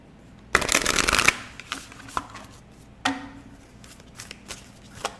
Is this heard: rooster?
no